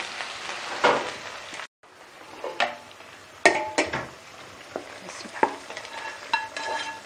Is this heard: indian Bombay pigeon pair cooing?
no